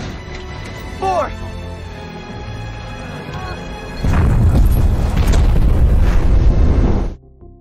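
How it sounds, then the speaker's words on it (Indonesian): Explosion in a zombie film bursts with a loud, sustained rumbling boom lasting about three seconds before cutting off. Shouting voices precede it. "Ledakan pun terjadi"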